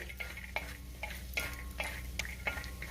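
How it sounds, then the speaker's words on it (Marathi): Peanuts frying in hot oil in a pan at home, a steady soft sizzle broken by repeated scraping strokes of a stirring spoon roughly every half second, close and moderately loud, with no talking. "तेलामध्ये आपण शेंगदाणे घालूया आणि हे शेंगदाणे तेलावरती आपल्याला चांगले परतून घ्यायचे, म्हणजे तळून घ्यायचे"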